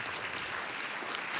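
Steady clapping from a crowd at a science communication competition final fills the space with a dense, even patter of applause, moderately loud throughout.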